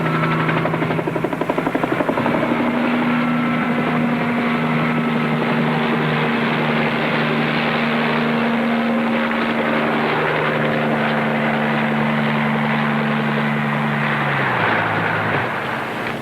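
A hired helicopter flies with a steady, close rotor and engine drone that holds for the whole stretch, its pitch dropping near the end, with no voices.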